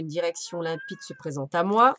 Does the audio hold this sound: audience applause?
no